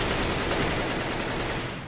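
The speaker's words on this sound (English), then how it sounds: "Deploying flashbang." A flashbang grenade going off in Counter-Strike on de_train, a dense, loud burst of noise that stays solid for under two seconds and then fades.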